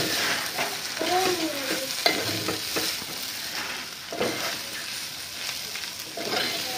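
Broad beans frying with chilli powder in a pan, stirred with a spatula: a steady close sizzle with scraping stirs and soft clinks throughout, and faint voices in the background.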